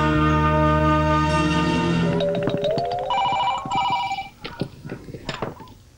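A telephone rings at a police station, a loud repeating electronic bell tone for a couple of seconds before giving way to clattering, broken sounds.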